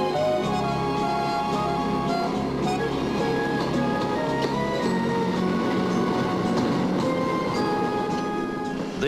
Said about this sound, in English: on a mine train that will take you back to the pioneer days